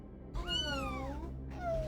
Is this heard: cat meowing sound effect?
yes